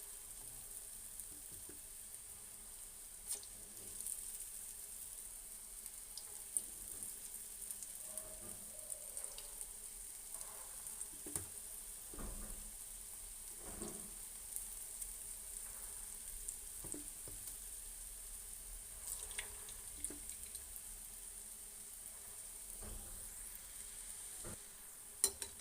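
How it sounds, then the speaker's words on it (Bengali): Lentil batter vadas deep-fry in oil with a soft, continuous sizzle and sparse popping crackles. Occasional louder clicks stand out over a fairly quiet, steady bed of frying sound. "আমরা বড়াগুলো ভেজে নেব"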